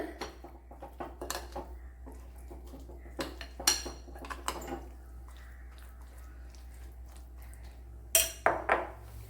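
A spoon clinks and scrapes against a bowl while pakoda batter is mixed, in scattered close knocks and short bursts with quiet gaps between.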